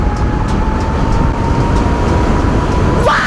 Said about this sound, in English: 108! The scooter is screaming!